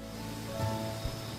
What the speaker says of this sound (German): Ja, jetzt regnet es eh.